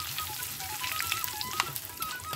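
Asafoetida added to hot oil with cumin, mustard seeds and curry leaves gives a steady, fairly soft sizzle and crackle, close by, with a few brighter pops scattered through and no talking.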